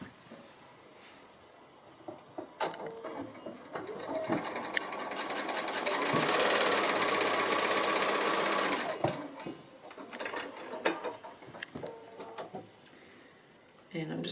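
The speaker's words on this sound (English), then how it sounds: "we're just going to stitch through that line there" A sewing machine stitches fabric along a marked line while foundation piecing a quilt block, running in a steady sustained whir for a few seconds amid quieter handling noises and intermittent talk.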